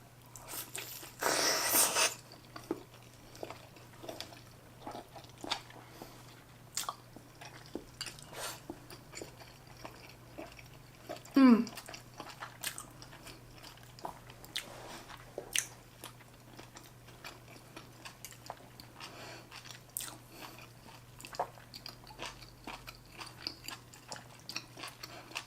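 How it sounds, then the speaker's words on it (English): Big oysters and lobster being eaten close to the mic, with intermittent wet chewing, biting and crunching sounds spread over quiet stretches and a faint steady hum underneath. "Because these oysters are so big, the little part where it's a little bit chewier, it's a lot chewier on these ones."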